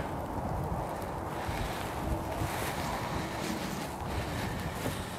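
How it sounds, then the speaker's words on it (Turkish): Wind blowing hard at Çubuk 1 Dam, a continuous loud rushing roar buffeting the microphone with no talk. "Bayağı da esiyor."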